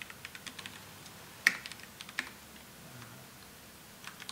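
Computer keyboard typing during a Call of Duty 4 gaming session: sparse, irregular key taps, faint and close, with a couple of sharper louder clicks near the middle and no talk.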